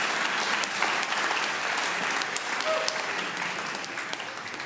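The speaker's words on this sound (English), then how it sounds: "Should we give them a round of applause as they come up?" A church congregation at an all-age service claps as a family walks up, a steady wash of many hands at moderate level, slightly distant and fading a little toward the end.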